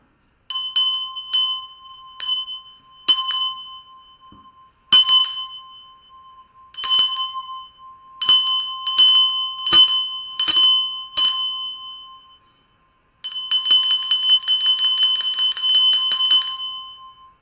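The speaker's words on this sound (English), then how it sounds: "root chakra bell." A bright bell rings repeatedly with sustained tones, struck in short separate bursts and then in a rapid, continuous trill near the end.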